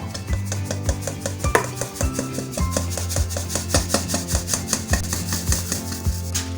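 Flour and baking powder are sifted for a marble cake, a rhythmic shaking rasp with regular soft taps against the sieve, heard close and alone without talking.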